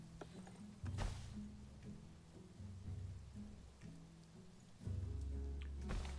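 Rain falling in the zoo-building game Planet Zoo, a steady soft patter with low rumbling swells that rise and fall, quiet and continuous with no talk over it.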